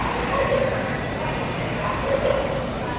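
A battery toy dog on a leash yips and barks in short electronic bursts on a store shelf, heard a couple of times under steady shop background noise.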